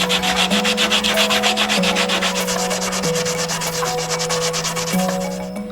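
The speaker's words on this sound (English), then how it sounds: "I'm gonna use some real coarse sandpaper to kind of get in there a little bit, clean everything back up even more" Coarse sandpaper works over a fiberglass surfboard ding near the tail, giving fast, even back-and-forth sanding strokes, loud and close, that fade slightly at the end.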